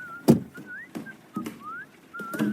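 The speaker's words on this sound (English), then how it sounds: "Whistling." A person whistles a wavering tune in short phrases, each note sliding up or down, with soft thumps and rustles between them in an otherwise quiet indoor scene.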